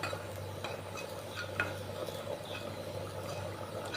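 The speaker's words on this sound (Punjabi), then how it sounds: "ਆਪਾਂ ਹੁਣ ਇਹਨਾਂ ਦੇ ਵਿੱਚ ਚੌਲ ਨੇ ਜਿਹੜੇ ਜੀ ਚੌਲਾਂ ਨੂੰ ਮਿਕਸ ਕਰ ਦਾਂਗੇ" Rice being stirred into light-browned onions in a cooking pan, a steady soft scraping and shuffling with faint sizzle that continues without pause at close range, with no voices.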